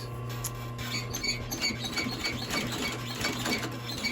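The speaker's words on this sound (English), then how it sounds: "It's a little dark to be stitching down here" Sewing machine stitching leather on a century-old Henry Likly doctor's bag: steady mechanical whirring and rapid needle ticking, close and fairly quiet, with a low motor hum running throughout and no voices.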